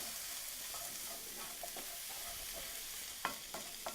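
Spoon stirring grated fresh ginger and an Indian spice mixture in a cooking pot for a savory curried chicken and vegetable stew, with a soft sizzle underneath and a few light scraping clicks, quiet and close, no talking.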